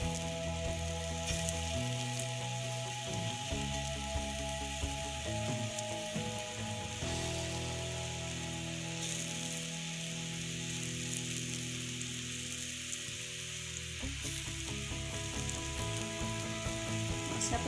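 Small chana dal sandge dumplings frying in hot oil, a steady bright sizzle and bubbling crackle that runs throughout, with faint tonal background music underneath.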